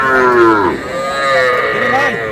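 A bull calf moos loudly at a busy cattle market, a single drawn-out bellow rising and falling close by, with no talk over it.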